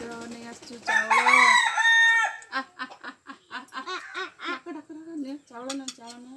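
Chickens at a school, being fed rice by young children, give a loud burst of crowing and clucking near the start, followed by the children's voices chattering and talking close by.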